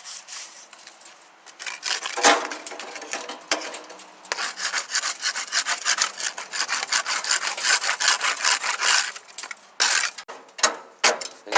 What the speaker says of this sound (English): I'm going to go ahead and take the rest of the fire dampers off. Give them a quick little